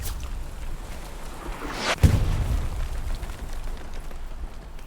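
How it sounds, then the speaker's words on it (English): An explosion in the World War II shooter Hell Let Loose during a competitive match: a sudden, loud blast with a deep booming rumble that slowly fades under steady background battle noise. "just died to an explosion just before the garrison"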